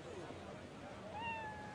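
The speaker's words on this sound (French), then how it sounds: "Vous voyez ces chats? Ils sont partout." Stray cats let out a short, fairly faint meow rising and falling near the end, over steady background noise.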